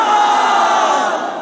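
A large crowd at a political rally in Bahawalpur, Pakistan chants slogans in one loud, sustained roar of massed voices that swells again at the very end.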